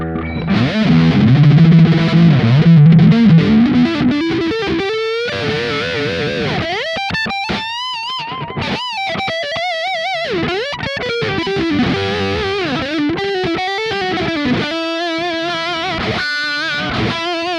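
An Ibanez electric guitar played through a Kemper amp with heavy distortion, starting with thick low chugging chords, then sustained, bending lead notes and fast runs, loud and close.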